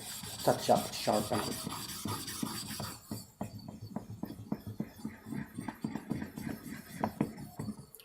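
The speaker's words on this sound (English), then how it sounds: "The knife is not broken, it's not even misshapen, it's just lost the edge. So this will be a touch-up sharpening." Knife blade being touched up on a sharpening stone to restore a lost edge, a series of rhythmic gritty rasping strokes, louder and denser at first and then lighter, quick and close.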